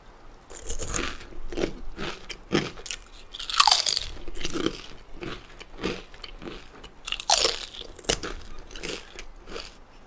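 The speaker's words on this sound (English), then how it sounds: "let's not crunch so loud in the library" Potato chips crunch and get chewed in a quiet library, with loud, close, irregular bites and crackly mastication repeating steadily throughout, no talking.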